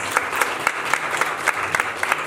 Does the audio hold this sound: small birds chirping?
no